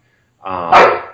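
One loud, close dog bark, a drawn-out yelping vocalization lasting under a second, rising abruptly from silence.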